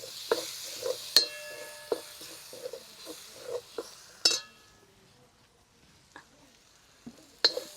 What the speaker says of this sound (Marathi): हे आता छानपैकी मिक्स करून घेऊ